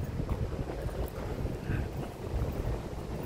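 A gentle sea breeze blows across an open seaside spot in Macau, a soft, steady rush of wind noise on the microphone with slight swells.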